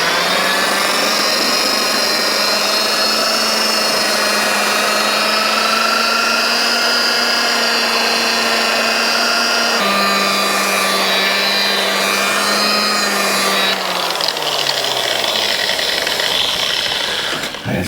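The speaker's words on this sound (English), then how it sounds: "Got my wee drill with the cotton pad on it" A small drill spins a cotton buffing pad to polish a Yamaha FZ6 motorcycle fuel tank, a continuous loud motor whine that holds steady, then sags lower in pitch toward the end.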